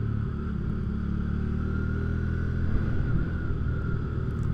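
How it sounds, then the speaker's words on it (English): A Hyosung GV300S motorcycle rumbles steadily while changing down through the gears, a low continuous engine drone heard from the rider's position with slight swells in revs. "Changing down the gears is nice."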